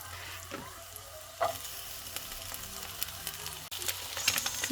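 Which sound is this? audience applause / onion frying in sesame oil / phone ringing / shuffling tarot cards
onion frying in sesame oil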